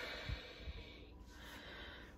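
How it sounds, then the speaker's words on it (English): A slow, soft exhalation through the mouth with the tongue tip resting behind the teeth, a breathy airy hiss close to the listener lasting about two seconds, with a faint snort-like puff near the start and no talking. "And then when you breathe out,"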